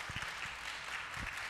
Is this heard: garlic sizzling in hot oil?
no